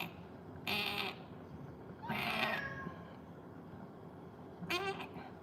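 A cat gives three scratchy, drawn-out meows, each about half a second long, spaced a second or two apart, close and fairly loud against a quiet background.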